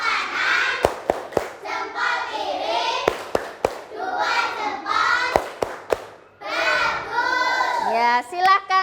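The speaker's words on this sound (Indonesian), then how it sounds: "Ayo, tepuk 2 jempol" Schoolchildren in a classroom perform a rhythmic thumbs clap chant together, their voices singing in unison between loud, sharp claps that land in small clusters.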